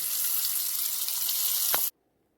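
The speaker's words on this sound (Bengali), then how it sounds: "পটলটাকে আমি ভেজে তুলে নিয়েছি।" Pointed gourd (potol) rubbed with salt and turmeric fries in hot oil with a loud, steady, close sizzling hiss. A brief tap sounds near the end before the sound cuts off abruptly into silence.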